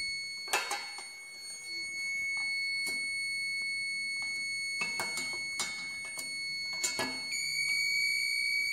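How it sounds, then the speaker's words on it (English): Two social distancing proximity beacons beep their alerts together, producing repeated short, sharp electronic tones in irregular bursts over a steady high-pitched background tone, close by with no talking. "you should see the two beacons, two sounds that are going on simultaneously"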